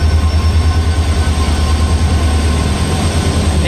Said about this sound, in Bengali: এই যে ট্রেনটা ঢুকছে